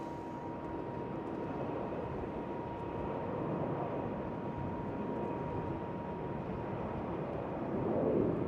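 On a windy day at Schiphol Airport, a Vueling airliner passes as a steady, broad roar that holds for the whole stretch and swells slightly toward the end, with no voices.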